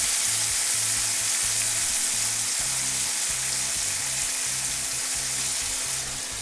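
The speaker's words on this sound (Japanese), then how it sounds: "これで一旦この断面をしっかり焼き固めて" Tomato halves sear cut side down in a hot pan for a Italian-style tomato pasta sauce, giving a steady, close, loud sizzle with a faint low pulsing rhythm throughout and no talking.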